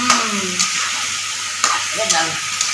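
Potato curry stirred in a pan, with a bright sizzle underneath and a few distinct scraping strokes of the spoon against the pan, close and fairly loud, spaced irregularly.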